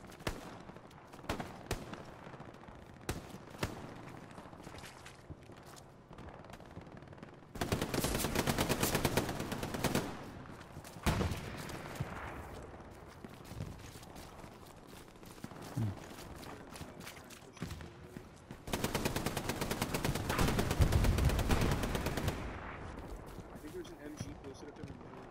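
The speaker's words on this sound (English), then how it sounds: "that's what the MGs are shooting at." Machine gun fire in the Hell Let Loose battlefield shooter, rapid bursts rattling on and off over a busy background, with heavy sustained volleys and sporadic shots while players talk over the combat.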